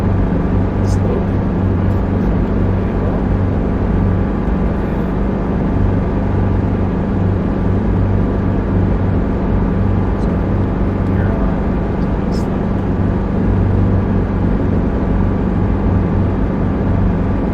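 A helicopter flying in to approach a slope landing gives off a steady, loud, close rotor and engine drone that rumbles on without a break.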